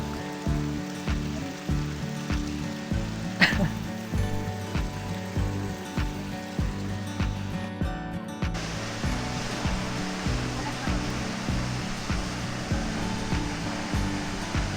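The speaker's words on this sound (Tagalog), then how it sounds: "Ito talaga yung falls pa." Steady roar of Aw-awasen Falls in La Union, a broad continuous rush of falling water with a rhythmic low throb running beneath it, loud and close throughout.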